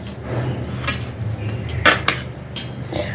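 Kitchen knife cutting a tomato on a board while making eggplant bharit, a few sharp clicks and taps of the blade amid soft handling noises, close and fairly loud.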